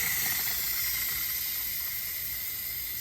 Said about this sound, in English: I'm going to go ahead and release the pressure off of my quick cooker.